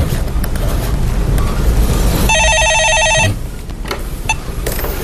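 A telephone on a call-in stock market show rings once in a short electronic trill lasting about a second, clear over a dense, steady background noise.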